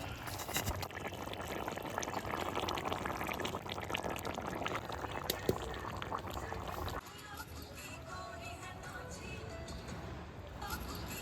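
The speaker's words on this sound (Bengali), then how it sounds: "ঝোলটা ফুটে আসলে ভেজে রাখা মাছগুলো দিয়ে দিলাম।" A tomato gravy for village-style Bengali katla fish curry bubbles and hisses at a boil with fried fish pieces added, a dense, close, continuous seething that drops slightly in level partway through.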